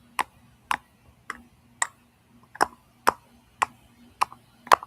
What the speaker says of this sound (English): I apologize if you guys hear my computer is making a little noise in the background.